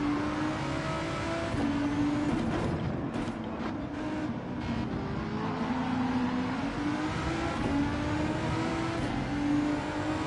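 Volkswagen GTI VGT race car in a racing video game on Deep Forest Raceway, its engine droning loud and steady at high revs with shifting pitch while chasing a rival down the straight, no voices.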